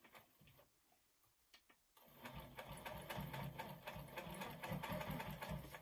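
A powerquilter 1650 long arm quilting machine sewing large basting stitches while loading a quilt on the frame: a few faint taps, then a steady, rapid mechanical stitching chatter running close and continuous.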